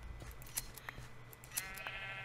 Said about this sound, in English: I'm going to shear my sheep.